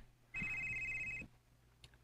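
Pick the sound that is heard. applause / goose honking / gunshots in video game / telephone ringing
telephone ringing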